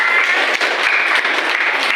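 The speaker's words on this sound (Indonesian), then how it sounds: "Tepuk tangan untuk kelompok 4." Applause for a student group in a classroom teacher-training session, a steady dense patter of clapping from a small audience lasting two seconds, moderately loud with no talk over it.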